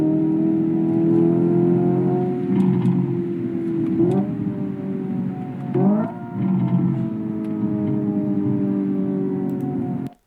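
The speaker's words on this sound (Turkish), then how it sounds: "Vites küçültürken e, vites küçültmekten kaynaklı devir bir anda yükseliyor." Rimac Nevera electric hypercar accelerating with a steady synthetic drone that rises in pitch, broken by simulated gear shifts where the tone dips and climbs again, loud and close throughout with no talking.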